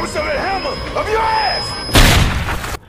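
A voice speaks, then a single loud, sharp pistol gunshot from the film The Midnight Meat Train (2008) cracks out near the end and cuts off abruptly.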